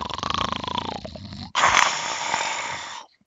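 A voice imitates a monstrous creature hissing and growling, a raspy snarl breaking into a louder, breathy hiss that holds for about a second and a half before cutting off.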